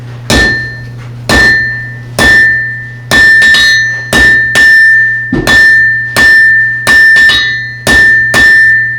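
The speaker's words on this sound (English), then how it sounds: "put it down here on the near side of the anvil. I'm going to bite off some material." A blacksmith hammers hot metal on an anvil, striking it about a dozen times with loud, ringing metallic hits. The blows come in a steady rhythm, each ringing on briefly before the next, over a low background hum.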